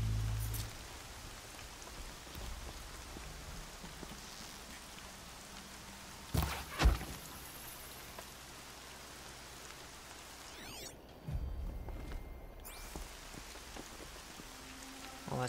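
Steady rain in Horizon Zero Dawn hisses evenly throughout, with a few dull thumps and a brief louder rush partway through, and no voices.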